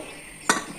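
A lid is set onto a pot of cooking rice in a home kitchen, one short metallic clink near the end of a quiet stretch, with no talk.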